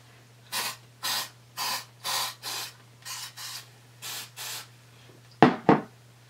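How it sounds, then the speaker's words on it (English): Nine short hissing bursts of an aerosol shoe-stretch spray sprayed inside a Louboutin heel, in an uneven rhythm, close by, followed by two sharper rustling knocks at the end. "I have this nice and shooken up, and then I'm just going to spray right inside"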